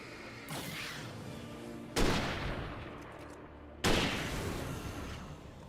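A rifle fires three shots a couple of seconds apart, each a sharp, loud crack followed by a long rolling echo that fades before the next.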